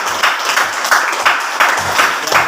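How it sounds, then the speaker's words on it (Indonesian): A classroom group claps together for a presentation, a brisk and steady burst of applause with regular rhythmic peaks, close and fairly loud, with no talking over it. "Beri aplaus."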